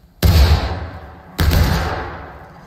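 Two heavy gunfire blasts from a War of Rights battle, each a loud sharp report with a long decaying rumble, the second following about a second after the first.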